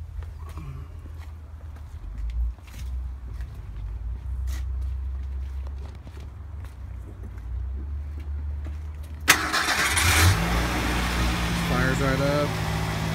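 A car engine cranks and fires up partway through, then settles into a steady close idle, after a quieter stretch with faint low rumble and occasional clicks and knocks.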